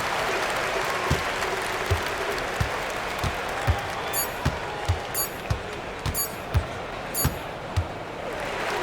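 NBA 2K25 arena crowd applauds and cheers in a steady roar at the end of a Bulls at Rockets game, with a string of sharp, regular basketball bounces on the court cutting through the crowd noise.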